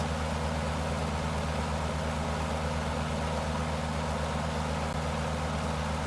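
Aircraft piston engine straining at 4,000 feet in Microsoft Flight Simulator 2024, a steady, dense drone with a low throbbing hum, continuous and unchanging throughout, no talk.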